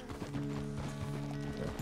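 Horse hooves in the video game Red Dead Redemption 2 clip-clop in a quick, even rhythm at close range, with a brief faint whinny-like tone under the steps and no talk.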